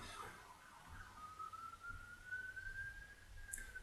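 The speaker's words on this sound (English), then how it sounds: "also these sirens are crazy" A siren wails outside, a faint rising and falling tone carried from a distance over quiet background noise.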